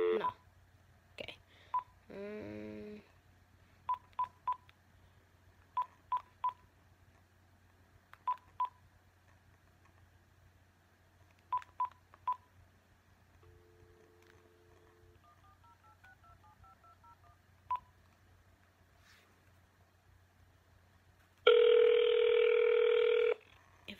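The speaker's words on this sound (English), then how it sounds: "Text him or call him." Phone keypad dialing tones beep in short separate presses, quiet and clear over a faint hum, followed by a brief ringback pattern and then a loud steady tone near the end.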